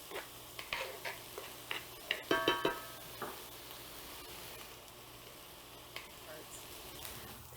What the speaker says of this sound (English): Now you want to saute your onions until they become nice and translucent.